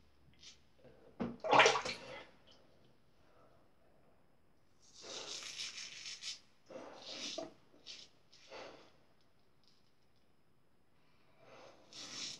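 A stainless steel single-edge safety razor is swished and rinsed in water, producing several bursts of splashing and sloshing separated by quiet pauses, fairly close and moderately loud, with no talk.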